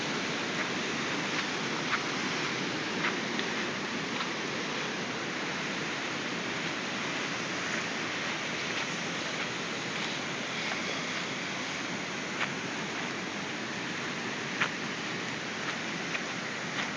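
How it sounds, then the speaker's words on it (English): After a short Tennessee rainstorm, water surges up from the ground with a constant hissing rush, close and even throughout, broken only by a few faint ticks and splashes. "Water just bubbling up out of the ground."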